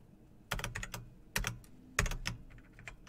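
Someone types on a computer keyboard at close range in short irregular clusters of crisp clicks and key thumps, with brief pauses between the bursts and no speech.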